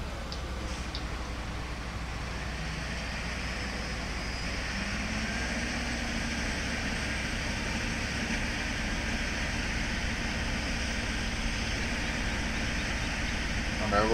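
Tractors sit idling in a farming video game set in the Upper Mississippi River Valley, a steady low engine drone that holds evenly throughout with a faint mechanical whine on top.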